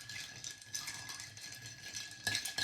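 Ice rattling in a glass as a cocktail is stirred, a quiet continuous clinking with a brief louder burst near the end, heard alone without talk.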